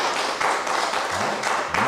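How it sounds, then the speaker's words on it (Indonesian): Audience clapping in a seminar hall, a steady patter of hand claps running throughout, fairly close and loud, with no talk over it. "Oke, tepuk tangan buat Anda."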